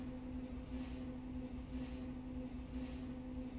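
A train rolls along tracks in a cutscene from LSD: Dream Emulator, a quiet, steady rumble with a low tonal hum and soft rhythmic swells roughly once a second.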